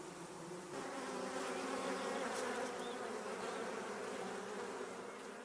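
Honeybees buzz steadily around a beehive, a dense continuous hum of many insects close by with no talk.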